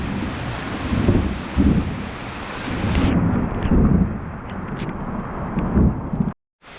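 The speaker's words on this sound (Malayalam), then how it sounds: "നല്ല മഴ" Heavy rain pours during a mountain trek at Koonichi Mala near Thiruvananthapuram, a loud, continuous hissing roar with deep rumbles of thunder, before cutting off abruptly near the end.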